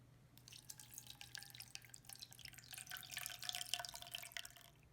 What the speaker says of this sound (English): I put it in a pot to fit, and I'm going to pour the water over it.